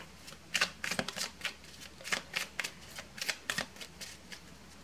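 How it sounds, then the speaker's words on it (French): Tarot cards being reshuffled and cut by hand, a close, quiet series of crisp riffling snaps in an irregular rhythm, heard alone without speech. "je replace les cartes, je remélange un peu et je coupe"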